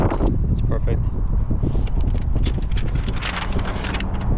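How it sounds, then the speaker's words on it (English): Heavy wind buffeting a microphone outdoors beside an Aprilia RS 660 motorcycle, a constant loud rumble with gusty flapping bursts throughout. "It's crazy windy up here."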